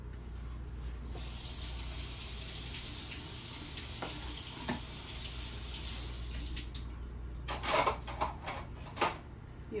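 Water pours steadily from a tap into a pot of lentil soup with bacon, a continuous close hiss and splash that ends in a few louder splashy gurgles.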